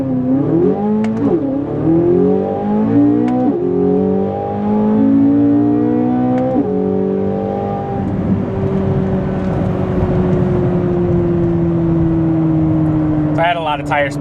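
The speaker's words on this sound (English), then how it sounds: "I'm mashing the gas." A C8 Corvette Z06 fitted with an Eventuri intake accelerates hard, its engine note climbing in pitch through several quick gear changes before settling into a loud, steady high-revving roar.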